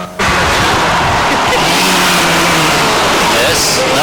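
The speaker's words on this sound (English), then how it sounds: "The wee Mini making plenty of noise." Mini rally car at a 1986 rally in Carrick on Suir, its engine roaring loud and close as it revs and drives off, with a commentator talking over it.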